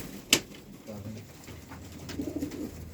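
Antique pigeons cooing in a loft, low soft coos near the end after a brief sharp click, with faint background murmur.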